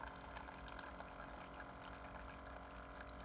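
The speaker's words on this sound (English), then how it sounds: "here we've got some boiling hot water coming out of the Keurig" Hot water from a Keurig coffee maker pours steadily into a cup for a few seconds, a continuous close-up splashing fill with a faint motor hum beneath.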